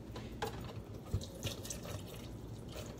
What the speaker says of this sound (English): I might just add like a little bit more water.